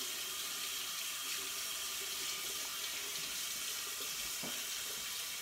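Tap water runs steadily into a sink while a cleaned shad fish is rinsed under it, a continuous close splashing rush with no talking.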